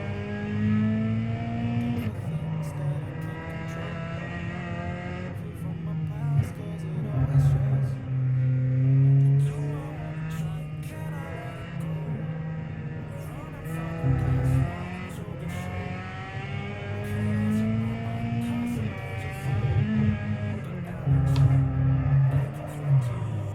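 A car in a racing video game roars past with rising and falling engine tones over a steady droning rumble, with repeated revs and gear shifts across the whole stretch.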